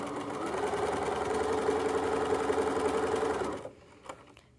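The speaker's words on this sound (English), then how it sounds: "then I'll just continue sewing at 3/8 inch" Sewing machine running a steady, fast, close stitching hum along a 3/8 inch seam of fabric for a Chromebook case, stopping abruptly near the end, followed by a faint click.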